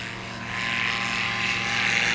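A STOL propeller airplane taxis out at Jennings, Louisiana, its engine a steady buzzing drone that swells slightly louder as it goes, close and continuous with no voices.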